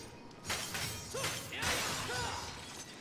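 Glass shatters in the Devil May Cry 4 video game, a loud crashing burst with tinkling shards that trails into a bright, ringing spill of fragments.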